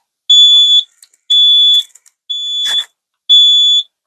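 Loud, piercing fire alarm panel trouble-signal tones, triggered by an open circuit from a removed resistor, sound in four long pulses with short gaps between them, close and dominant.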